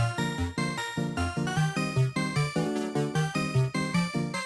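Bright arcade video game chiptune melody with bouncy square-wave notes and a steady pulsing bass, played loud and continuous with no voices.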